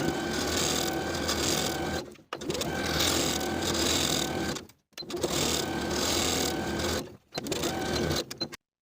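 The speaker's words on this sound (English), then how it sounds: "we're going to sew along our finishing stitches from the top to the bottom" Sewing machine running steady finishing stitches down a dress placket from top to bottom, in four continuous bursts separated by short pauses.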